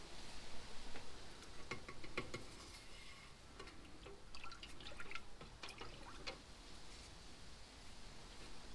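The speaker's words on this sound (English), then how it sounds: "Pour the rest back in the jug and keep mixing it." Waterproofing paste is stirred in a jug, producing faint, scattered clicks and soft wet taps at an uneven pace over a quiet background hiss, without speech.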